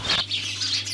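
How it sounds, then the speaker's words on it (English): Small birds chirp outdoors in quick, high tweets over a faint steady hum, all within about a second. "Hear the birds."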